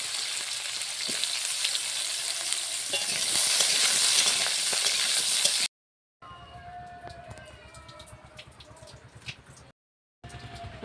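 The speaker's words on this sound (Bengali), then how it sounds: "এবার সবজিগুলো একে একে ভেজে নেব" Vegetables fry in hot oil in a pan, a loud, bright sizzling hiss with crackles and spatter that later drops to a quieter sizzle after a short silent cut, with no talking.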